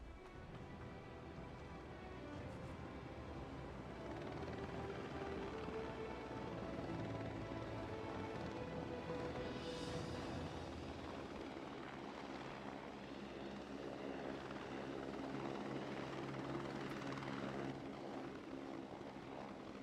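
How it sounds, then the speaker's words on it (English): A helicopter in the video game SOCOM: Combined Assault drones with a steady, rhythmic rotor chop, a faint, continuous beating hum that holds at one level throughout. "God damn this helicopter"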